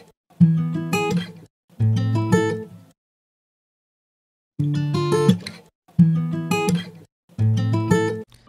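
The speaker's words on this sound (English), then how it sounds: "I started off by playing this guitar." Clean, dry guitar strums played in short phrases with a brief pause in the middle, close and clear with no added effects.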